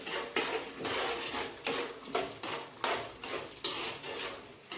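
Mustard and other tempering seeds crackle and fry in a pan for lemon rice while a metal spoon scrapes and stirs them in steady repeated strokes, close and fairly loud with no talk.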